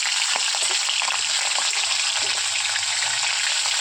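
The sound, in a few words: fish heads frying in mustard oil in a wok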